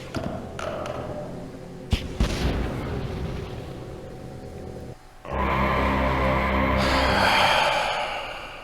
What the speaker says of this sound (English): Uh-oh, flash grenade.